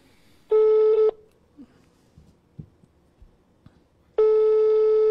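During a phone call to a city hall office, a telephone line signal sounds as two long, loud, steady electronic tones about three seconds apart, with faint clicks and rustles between them and no talking.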